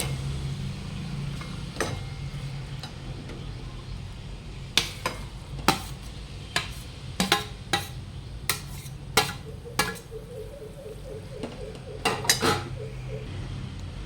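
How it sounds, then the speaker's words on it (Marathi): Grated raw mango is added to ghee in a pan and stirred, with a spoon clinking and scraping against the metal in scattered sharp knocks over a faint background hum. "तर आता ही किसलेली कैरी त्याच्यात टाकून घेऊया"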